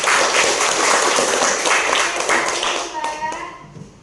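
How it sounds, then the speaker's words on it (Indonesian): Schoolchildren in a classroom clap for a student group, a loud, dense round of applause that thins out near the end as a few voices come in. "Tepuk tangan untuk kelompok Mbak Friska."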